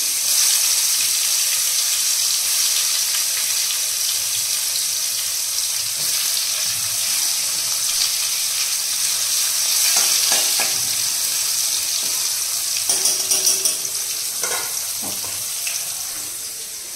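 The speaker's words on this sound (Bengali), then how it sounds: "আমি উচ্ছে কুমড়ো ভাজাটা করে রেখে যাই।" Bitter gourd and pumpkin fry with salt and turmeric in a hot wok, a loud continuous sizzle broken by a few clattering stirs toward the end.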